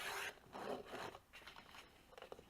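Cardstock sliced with a paper trimmer, two short scraping cutting strokes, close and quiet with no other sound around them.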